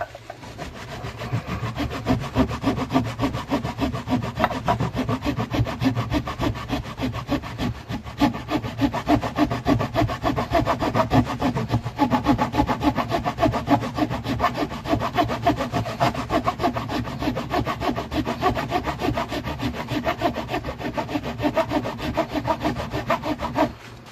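Wood is worked by hand on an ES 335 guitar build, with continuous rapid rasping strokes, dense and close, running without pause and without talk for most of the stretch.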